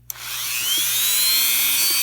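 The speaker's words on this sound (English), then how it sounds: "Make sure you've got good hold on your drill before you start." A handheld electric drill spins up on a craft table for work on a smooth-surfaced art doll, a steady high whine that starts abruptly and holds loud and close with no voices.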